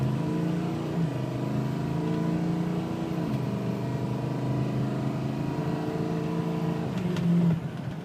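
A 2006 Ford F250 King Ranch diesel truck accelerating hard, its engine note rising steadily and the turbo spooling up, loud and close from inside the cab with no talk over it.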